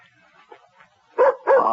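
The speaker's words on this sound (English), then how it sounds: "Oh, that's Nikki at the door with my dog." A dog barks at the door in a radio drama scene, with two loud, close barks following soft whines and snuffles.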